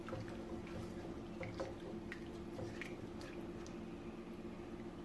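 Whisk stirring a creamy white pasta sauce of milk and garlic powder in a pan: quiet, wet squishing and dripping with soft irregular clicks over a low steady background hum, no talk.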